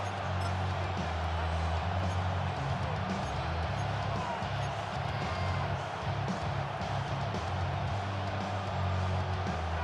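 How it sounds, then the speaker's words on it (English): Loud stadium crowd at a football game, a dense, sustained roar holding steady for the whole stretch, with a deep rumbling hum underneath and bursts of noise rising and falling. "This crowd trying to be a factor, getting very loud now."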